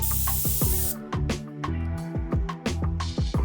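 Short hissing bursts from a spray can lay a thin black coat onto a Mega Man X helmet, several brief sprays in quick succession close to the listener, with music playing underneath.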